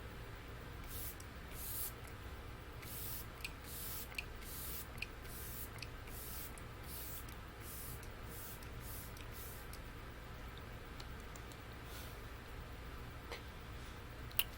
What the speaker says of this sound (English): it is a essence spray